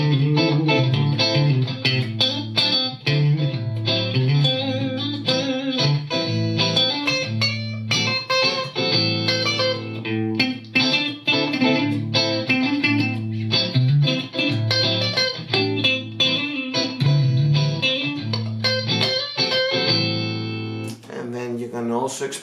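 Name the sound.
major second interval played over an A Dorian vamp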